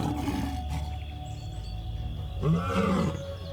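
A Kalahari lion in the African desert gives a deep, rumbling roar at middle distance over a constant low outdoor hum, the call swelling strongly near the end.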